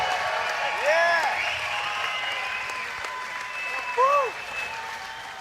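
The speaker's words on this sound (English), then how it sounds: "Listen to the crowd go wild here." Crowd at a live boxing event, Clash in Cayman II in the Cayman Islands, applauding steadily for several seconds, with loud whoops and cheers rising above the dense clapping.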